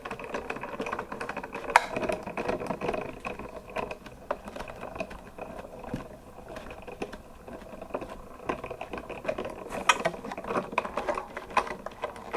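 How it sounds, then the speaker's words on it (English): A Spellbinders Artisan Explorer die cutting machine is cranked to cut cardstock with a small pierced-edge heart die, giving a steady stream of close, fine mechanical clicks and ratcheting ticks for about twelve seconds with no talking. "I'm using the Artisan Explorer. I love to use this machine for the little dies."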